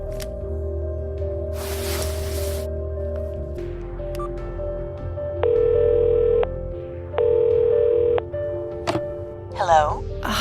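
Telephone in the video game Cognition: a clunk and receiver noise, then two long steady ringback tones with a pause between, followed by a brief voice at the end.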